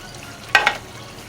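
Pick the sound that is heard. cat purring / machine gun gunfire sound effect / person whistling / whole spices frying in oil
whole spices frying in oil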